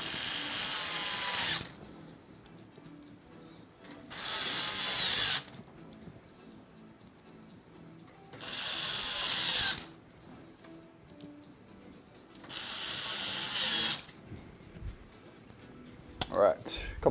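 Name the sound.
screws being driven in while building a PC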